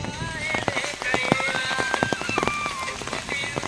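Rain falls steadily in a rural outdoor village setting, pattering busily and close, while people talk over it and sharp bird-like chirps and whistles come and go.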